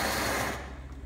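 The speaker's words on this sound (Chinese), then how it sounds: "咁然後就到磨粉嘅步驟。" An espresso grinder grinds coffee beans in a brief, loud mechanical whir that fades out as the motor stops, with no voices.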